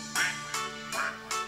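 A duck quacks four times at an even pace, each quack short and nasal, set against steady background music in a children's song.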